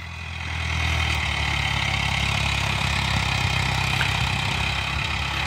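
A farm tractor with a company-fitted turbo runs in a field, its engine a steady loud low drone that swells in over the first second and then holds without a break.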